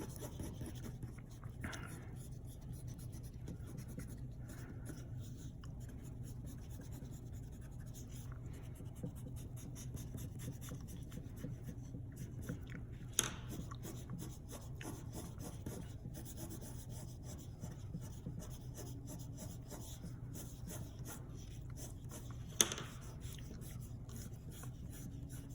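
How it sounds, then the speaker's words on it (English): Eraser rubbing and scratching across paper while working up value and texture in a pencil portrait, a steady close rasp that runs the whole time with a few sharper ticks, no voices. "I'm gonna come in again with the eraser."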